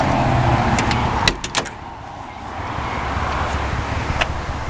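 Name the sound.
1948 Ford Super Deluxe Coupe passenger door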